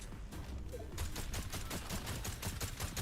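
Rapid automatic gunfire in a video game, a quick regular string of shots after a brief lead-in, steady and moderately loud with no voices.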